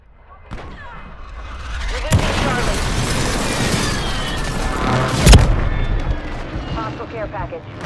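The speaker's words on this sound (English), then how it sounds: "Hostile airstrike near your location." An airstrike lands in Modern Warfare 3 gameplay: a deep, rolling roar of explosions builds after a brief lull, with one sharp, loud blast near the end and game voice chatter over the din.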